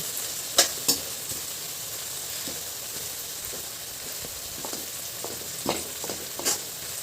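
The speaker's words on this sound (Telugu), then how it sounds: "ఇలా వేగనివ్వాలి గోంగూరను ఇలా వేగితే ఇట్లా పొడి పొడిలా ఆడుతూ వస్తుంది" Gongura (sorrel) leaves fry in a pan, giving a steady close sizzle and crackle with a few sharp clinks of a stirring spoon scattered throughout.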